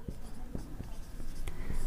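Chalk or marker strokes on a board during a Class 7 mensuration lesson, a close series of short scratchy taps and scrapes in an uneven rhythm.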